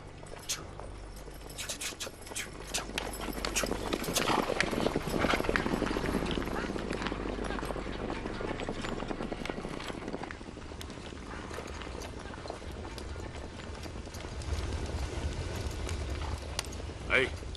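Horses gallop with clip-clopping hooves across open ground in a Mongolian-language historical drama about Genghis Khan; steady, fairly loud hoofbeats run throughout, with voices and other sounds mixed in.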